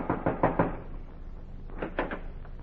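Heavy pounding on a wooden door in an old-time radio drama about the Underground Railroad: a burst of four quick loud knocks, a pause, then three more, close and alone with no talk.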